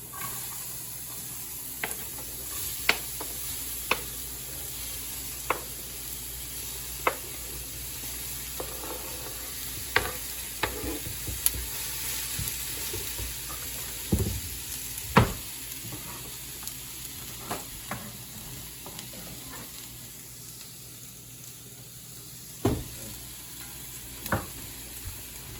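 Chopped onions sizzle steadily in a hot pan, with sharp clicks and scrapes of a knife pushing pieces off a board, close and continuous with no talking.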